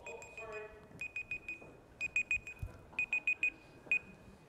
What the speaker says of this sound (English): oops, this is beeping.